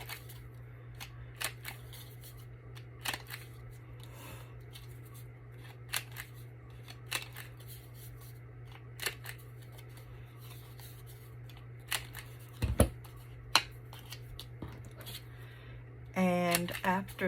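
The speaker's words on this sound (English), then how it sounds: "if you have some nice sharp little scissors" Scissors snip paper in short, sharp clicks scattered through the clip, over a steady low hum, with a brief rustle near the end.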